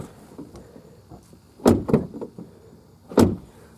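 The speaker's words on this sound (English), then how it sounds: "The door opens fine." A wrecked 2018 Ram pickup truck's door makes a couple of clunks as it opens, then a louder thud a moment later, close by in a quiet setting.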